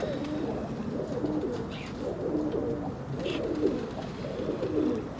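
Pigeons cooing steadily in a loft, repeated soft throaty coos overlapping in a continuous rhythm, fairly close, with faint background noise and no speech.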